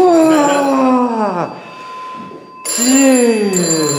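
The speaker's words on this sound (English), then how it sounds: "that damn phone went off" A mobile phone goes off with a loud electronic ringtone of bright, repeating tones, sounding twice with a short quieter gap between, inside an old fort.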